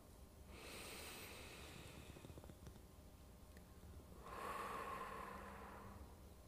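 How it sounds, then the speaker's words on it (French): Slow, calm breathing, drawing air in through the nose and then blowing it out through the mouth, with a soft airy inhale followed by a louder, breathy exhale close to the microphone, part of a relaxation exercise before singing. "On va inspirer par le nez et on va souffler par la bouche."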